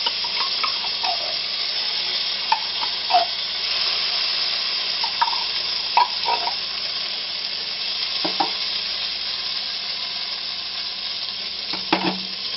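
Tomato paste browning with onions in a pan gives off a steady, even sizzle throughout, broken by a few soft scrapes and stirring clicks.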